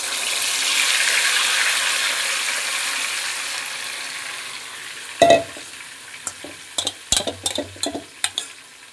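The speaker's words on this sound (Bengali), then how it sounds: "ম্যারিনেট করে রাখা মাংসটা এবার আমি দিয়ে দিচ্ছি।" Marinated goat meat drops into a hot pan, starting with a broad steady sizzle that fades, then a loud clatter and a run of sharp scraping, stirring knocks near the end.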